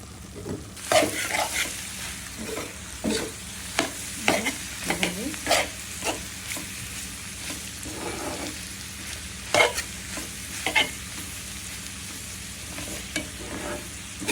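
Loitta dried fish bhuna being stirred and fried in a pan, a steady soft sizzle broken by repeated scraping strokes of the spoon at an irregular rhythm, close and alone.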